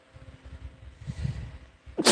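A single loud, sharp sneeze bursts out at the very end after a few seconds of quiet shuffling, outdoors at Cochiti Lake, New Mexico.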